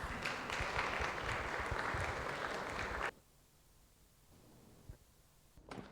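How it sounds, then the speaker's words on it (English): Loud, dense applause from an audience at a talk fills the first three seconds, then stops abruptly, leaving a quiet room with a few faint noises. "A round of applause, please, for James."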